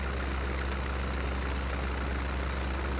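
A tractor engine labours under load in Farming Simulator 17, a steady low, heavy drone running continuously and close without change in pitch.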